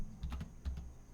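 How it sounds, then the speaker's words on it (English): A quick burst of keystrokes on a computer keyboard, several soft clicks close by at a quiet level, with no talking. "I'm typing fast, yo."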